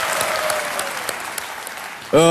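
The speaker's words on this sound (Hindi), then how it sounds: "एक बार फिर तालियों के साथ इनका अभिनंदन, बहुत बहुत बधाई।" Steady audience applause from a TV game show studio audience fills most of the clip, a dense wash of clapping, before a voice briefly cuts in at the end.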